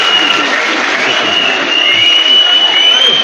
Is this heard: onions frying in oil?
no